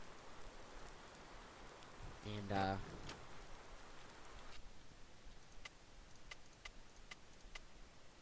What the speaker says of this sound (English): I'll sleep, see if the rain goes away